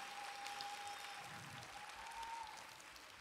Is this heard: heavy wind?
no